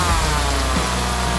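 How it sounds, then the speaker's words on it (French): A chainsaw buzzes loudly and continuously in a brief burst, its motor tone wavering and shifting pitch partway through, with no talk over it. "Une scie à chaîne?"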